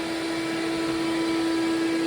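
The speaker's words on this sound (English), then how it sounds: "Keep the vacuum on and store the vacuum head up high." A wet vacuum runs continuously while sucking up drywall dust sludge on a post-construction floor, a loud steady motor whine with a strong constant hum and no pauses.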